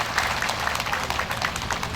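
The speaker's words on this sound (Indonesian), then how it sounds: "Tepuk tangan untuk para non Islam." Applause from a large Islamic religious gathering, a continuous wash of clapping at moderate loudness, fairly even and unbroken across its short span.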